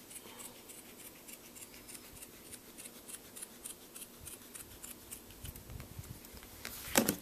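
Scissors trimming duct tape while making a wallet, giving quiet, scattered snips and rubbing against a soft background, with one louder cut near the end.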